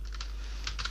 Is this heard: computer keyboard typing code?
yes